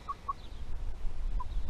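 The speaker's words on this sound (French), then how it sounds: "Un petit coq pékin," A small blue mottled Pekin bantam rooster gives a few short, soft clucks close by, spaced irregularly over a low rumble of background noise.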